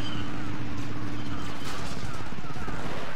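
Pistol fire in the Star Wars Battlefront 2 video game, dense overlapping shots and battle noise rumbling throughout a busy firefight, with no single crisp double report standing out.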